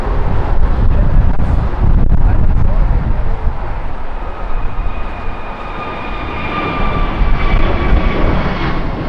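Korean Air 777 airliner landing on the north side runway at Los Angeles International Airport, a loud sustained jet engine roar with rising whine tones, heard from an outdoor spotting position with wind noise and faint background chatter.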